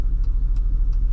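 A supercharged car engine hums in a steady low rumble while driving, heard from inside the cabin with faint intermittent ticks above the drone.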